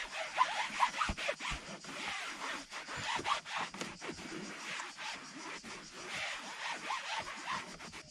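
A microfiber cloth rubs briskly over plastic trim inside a Peugeot 308 during cleaning, giving close, continuous scratchy swishing strokes in an uneven rhythm with occasional sharper scuffs, heard on its own.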